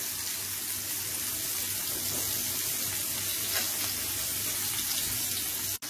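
Fish frying in a pan on a gas flame at medium heat, a dense continuous sizzle and hiss held at an even level, close and alone with no talk, ending with a short click.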